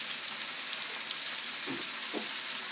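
Onions frying in oil for biryani, a steady close sizzle with a couple of faint stirring knocks and a sharper clatter at the end.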